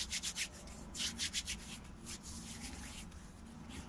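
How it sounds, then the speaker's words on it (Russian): Oiled hands rubbing together while sausage rolls are being made, soft repeated swishing strokes in a few quick bursts, close and quiet over a faint steady background hum. "Сейчас нам надо маслом намазать руки."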